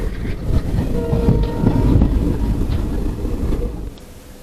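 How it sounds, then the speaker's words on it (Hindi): The 09720 Jaipur Express special rolls out after a one-minute stop, heard from on board as a loud, continuous rail rumble with faint clicking of wheels over joints that eases slightly toward the end. "एक मिनट के स्टॉपेज के बाद अब अपनी जयपुर स्पेशल रवाना हो गई है।"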